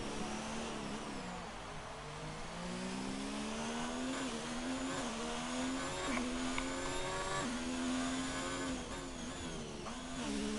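Race car engine in a sim racing game at a Canada round, a steady high-revving whine that rises and drops through gear shifts and braking, continuous and fairly close, with no talk over it.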